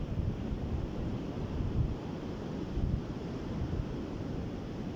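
Ocean surf breaking steadily on a shore, a continuous broadband wash with gentle swells rising and falling, close and fairly loud, with some wind rumble and no voices.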